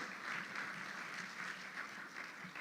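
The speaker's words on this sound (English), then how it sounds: "Big round of applause." Quiet, steady applause from an audience at a golf teaching and coaching summit, heard at a distance as a speaker is welcomed up.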